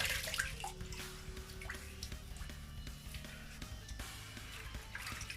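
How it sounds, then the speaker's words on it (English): Water splashes and drips as a face is wetted at a sink before shaving, a close, soft, continuous wash of running and slapping water. "We're gonna wet our face and just see what we got going on here."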